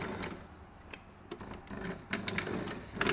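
A sewing machine stitches a narrow fold on a fabric flounce, running in short rapid bursts of needle clatter that start and stop close by, with no talking.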